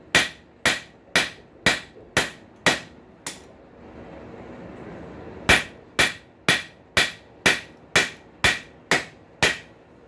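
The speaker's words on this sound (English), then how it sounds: "I'm going to switch to a hammer with a little smaller diameter head" Hammer blows on hot metal ring out in a steady rhythm while forging tongs from a rail spike, loud and close, with a short pause before evenly spaced strikes resume with a smaller-headed hammer.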